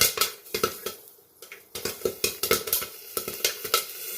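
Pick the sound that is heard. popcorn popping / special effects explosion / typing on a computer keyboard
popcorn popping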